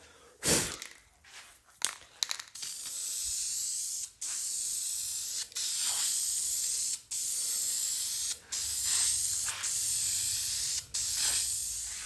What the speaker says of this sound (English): so 2 quick coats of just that aerosol primer